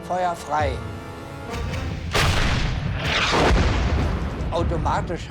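A tank gun fires an armor-piercing shell during a World War II tank battle in Tunisia against the Afrika Korps, a loud booming blast with a long rumbling tail, with voices talking briefly over the start.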